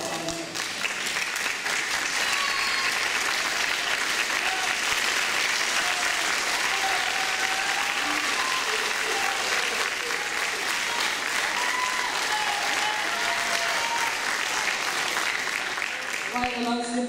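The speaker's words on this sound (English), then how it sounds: "Let's give him a round of applause." Sustained applause from a school band concert audience at a spring concert, dense and steady throughout, with a few voices and whistles mixed into the crowd noise.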